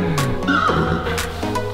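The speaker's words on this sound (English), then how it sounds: "This is also a nice horse." A horse whinnies at a stable farm, a short, wavering neigh rising and falling, fairly close and loud over steady background noise.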